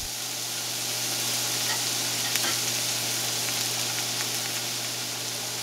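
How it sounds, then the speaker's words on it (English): Onions sautéing in olive oil in a skillet, a loud, continuous close sizzle that stays even throughout with no talking. "In the same skillet, I'm going to pour in some more olive oil so I can saute the onions"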